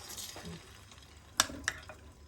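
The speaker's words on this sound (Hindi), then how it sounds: "देखो, अब इसको तेल में डाल रहे हैं फ्राई करने के लिए।" Chicken pieces for butter chicken dropped into hot oil, giving a faint, soft sizzle with two sharp clinks or splutters near the middle, quiet and close.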